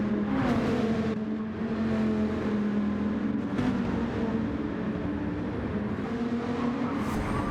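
Race car engines at Mount Panorama in a racing game, a steady loud droning roar with rising and falling revs and faint passes as the pack runs through a braking zone, continuous throughout.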